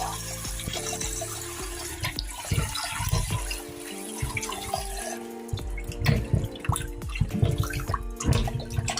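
Pumpkin slices are washed under a running kitchen tap, water splashing and pouring with handling clatter, close and uneven in loudness, with no speech.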